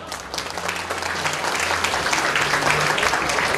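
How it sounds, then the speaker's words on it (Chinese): Guests at a fundraising banquet dinner give a sustained round of applause. The dense clapping builds slightly and stays loud and continuous, with a faint crowd murmur beneath. "再次给他热烈掌声，好不好？"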